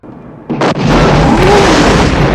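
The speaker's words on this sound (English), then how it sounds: "Holy explosion, Batman." A large explosion from the 1987 film Lethal Weapon bursts out after a brief quieter lead-in, with a sharp pop followed by a sustained, loud roaring boom that fills the rest of the moment.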